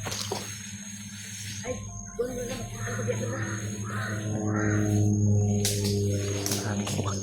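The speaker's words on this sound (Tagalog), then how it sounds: "Maraming uwak tol." Several crows cawing outdoors in the early morning, harsh calls rising in the second half over a steady low background hum and faint murmuring.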